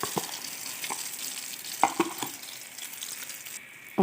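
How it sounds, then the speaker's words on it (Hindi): Carrot halwa mixed with beaten eggs is stirred in a pan, with a few sharp spoon clicks and scrapes over a faint, steady cooking hiss, close by. "और अभी हम इसे अच्छे से इस तरह से इसे तोड़ के पकाएंगे इस तरह से।"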